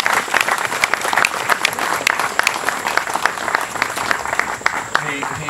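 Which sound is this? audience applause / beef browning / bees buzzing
audience applause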